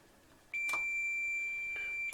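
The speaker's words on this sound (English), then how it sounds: "So now with our meter just on continuity, just going to check these fuses inside here." A multimeter set to continuity gives one steady electronic beep lasting about one and a half seconds while its probes test the fuses inside an uninterruptible power supply, heard close and clear with no talking.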